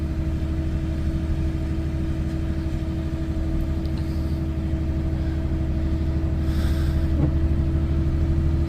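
A White 271 disc harrow's tractor-style engine running steadily in first gear on a slow haul, a continuous low mid-pitched drone with constant loudness throughout and no voices.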